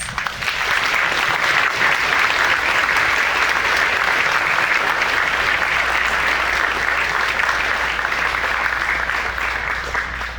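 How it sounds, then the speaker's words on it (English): An audience at a Chattanooga Chamber business event gives its guests a sustained round of applause, with dense, even clapping that stays loud throughout. "Let's thank our guests once more with a round of applause."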